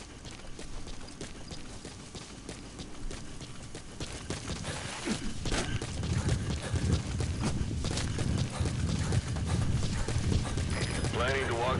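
Horse hooves clip-clop in a video game set in a wilderness, a steady rhythmic beat that grows louder and busier partway through, with people talking over it throughout.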